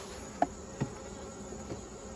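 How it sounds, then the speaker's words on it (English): Thick buzzing of a great many honey bees around large hives of tens of thousands, an unbroken near drone with two or three light clicks along the way. "It's a lot of bees."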